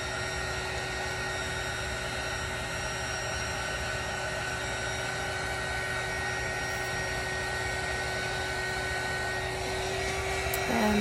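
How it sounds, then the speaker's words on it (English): A heat gun runs steadily close by, blowing hot air over paint on a spinning tumbler to blend the white, a continuous hiss and whine that swells slightly at the end with no talking. "now I'm going to hit that with just a little bit more heat just to get that white to blend."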